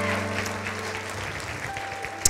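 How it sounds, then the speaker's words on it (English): A church congregation claps hands in praise, a dense burst of many people applauding together under a faint background hum. "give him one more big hand clap of praise in the room"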